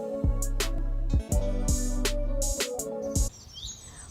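Birds in a large banyan tree give short, repeated chirps over a prominent musical backing. The tones stop shortly before the end, leaving a quieter tail.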